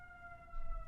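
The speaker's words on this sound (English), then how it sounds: "pardon for the siren." A steady siren tone holds at two pitches over a low rumble, moderately loud and continuous, with no voices.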